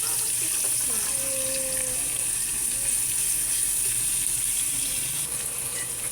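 Garlic and onion sauté in a pan for ginisang ampalaya, giving a steady, even sizzle that runs the whole time at moderate loudness with faint background hiss and no speech.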